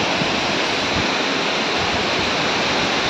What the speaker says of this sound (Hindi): कैसा है वाटरफॉल यहाँ का।